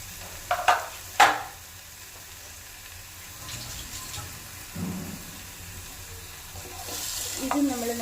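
A tablespoon of crushed garlic fries in a pan for chicken kabsa, sizzling steadily as a spoon stirs it, with a few sharp clinks and scrapes up close.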